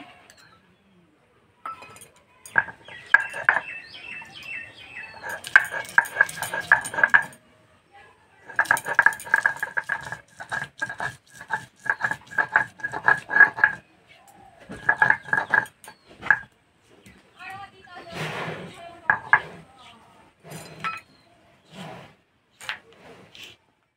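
Cloves of garlic and a piece of ginger ground into a paste, probably by pounding or grinding on stone, producing bursts of rhythmic clinking and knocking strokes with short pauses, close by and fairly loud, with no talking.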